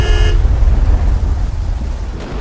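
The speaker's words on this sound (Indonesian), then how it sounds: "Meli pun langsung memerintahkanku untuk membunyikan klakson agar mereka segera menepi dari tengah jalan" A car horn on the road at Majalaya, Garut gives one brief, loud honk at the start, then the steady rumble of the moving car and road noise continues alone.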